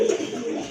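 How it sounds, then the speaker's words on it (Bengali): A pair of active pigeons gives a single short, low coo close by. "কবুতরগুলো কিন্তু মাশাআল্লাহ দুইটাই কিন্তু খুবই অ্যাক্টিভ কবুতর"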